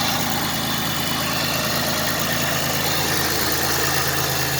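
A supercharged engine on a 1999 Pontiac Grand Prix GTP idles steadily with a cold air intake fitted, a constant broadband hum and whir with no changes in rpm, loud and close.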